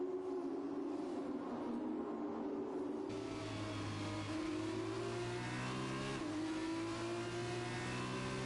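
F1 2021 video game race car engines during a safety car period of an F2 race in China, steady droning engine tones that shift pitch with gear changes and a second car joining partway through, continuous and fairly close.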